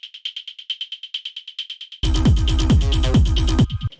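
Short, bright synthetic percussion hits repeat in a quick steady pattern on the upbeats, then a fuller hard rave techno beat with deep thumps joins underneath.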